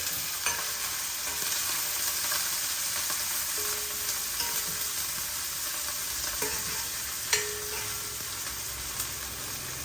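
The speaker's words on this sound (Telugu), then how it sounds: "మన ఉల్లిపాయలు వేగిపోతున్నాయి మంచిగా" Onions fry with green chilli and fresh curry leaves in a pan, a continuous quiet sizzle with occasional soft clinks and stirring taps, no voices.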